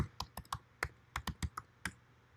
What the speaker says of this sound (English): Okay, so I'm typing the command,